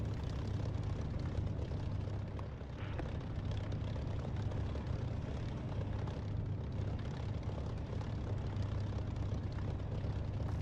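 Spitfire propeller engine in the DCS flight simulator roaring at steady high power during takeoff, a dense continuous drone with a strong low throb holding constant throughout.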